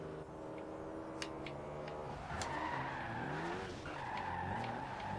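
Tires skid and squeal as a car drifts sideways in 5th gear in the racing game Forza Horizon 2, with a steady engine drone and shifting whine continuing under the slide for several seconds.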